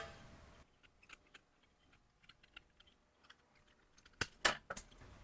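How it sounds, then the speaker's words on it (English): Tin snips cut material trimmed to fit a pedal car fender, sparse quiet clicks followed by a few sharp, louder metallic snips near the end, close and isolated. "I'll trim that with snips"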